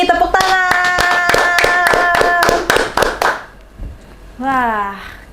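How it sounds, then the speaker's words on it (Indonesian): Hand claps, a run of about ten sharp rhythmic claps ringing out over a sustained musical tone, loud and close, with a voice speaking briefly afterward. "Tepuk tangan."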